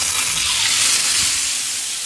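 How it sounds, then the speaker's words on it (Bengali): Tilapia fish frying in mustard oil on a wide tawa, a loud continuous hissing sizzle with a steamy, steady roar close up. "তাই আমরা এরকম একটা তাওয়ার মধ্যে ভাজতেছি"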